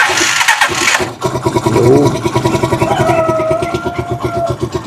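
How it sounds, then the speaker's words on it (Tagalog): A Rusi Chariot 175 motorcycle cranks with rhythmic chugging pulses, catches, and settles into a steady idle with a rising whine, close and fairly loud. "Okay, start natin yung ating makina."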